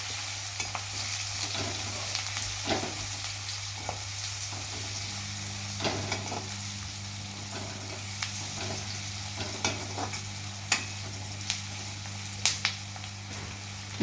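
Turmeric and spices fry in oil in a pan for an okra curry, a steady close sizzle with scattered pops and crackles and occasional stirring clinks, no voices.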